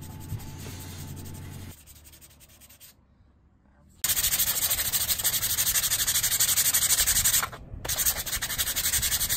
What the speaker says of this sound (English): This is Kat in real time sanding.